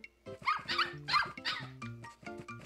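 A puppy in the Nintendogs + Cats video game barks in a quick run of high, bright yips and bow-wows. The barks sound close and clear with short gaps and no talk.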